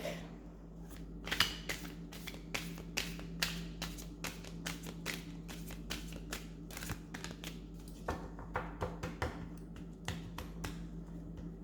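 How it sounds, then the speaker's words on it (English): A brand-new deck of cards is shuffled by hand, producing rapid bursts of crisp riffling snaps and taps in uneven clusters, close and fairly quiet over a low steady hum. "It's new, so it's not shuffling as easy as older decks."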